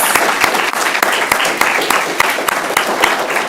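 Dense, steady applause from an audience honoring award recipients at a school district superintendent's citation ceremony, many hands clapping at close range without letup for several seconds.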